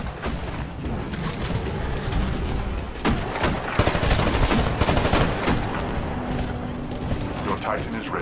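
Rapid bursts of automatic gunfire and impacts from the Titanfall video game crackle densely, loud and close, mixed with game voices and someone talking.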